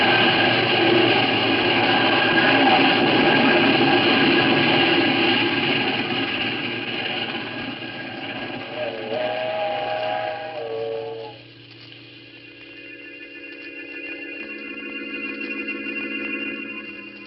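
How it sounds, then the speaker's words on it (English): A train rumbles past steadily, then a long, loud steam whistle sounds in sustained tones as the rolling noise fades away. "When the train had passed"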